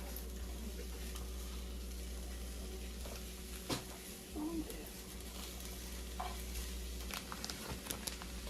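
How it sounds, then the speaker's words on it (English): Shredded carrots sauté in a pan with a steady, close sizzle, broken by occasional stirring scrapes and clinks of a utensil. "We're gonna saute them just a little, season them up, and everything gonna be good."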